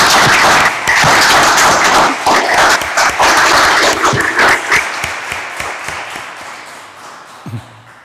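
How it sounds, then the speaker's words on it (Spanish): A courtroom audience applauds new lawyers at a Supreme Court swearing-in ceremony: dense, steady clapping that thins and fades toward the end, with a brief low thump just before it stops. "Aplaudamos este logro."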